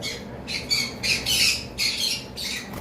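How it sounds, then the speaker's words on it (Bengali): A breeding pair of lovebirds squawks in a cage, giving a series of about six loud, harsh bursts close by in quick succession. "এখানে একটা পেয়ার লাভ বার্ড আছে"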